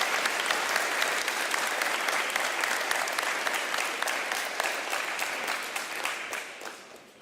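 A crowd at a Veterans Day ceremony claps continuously, dense and lively at first, then gradually thins out and fades away toward the end.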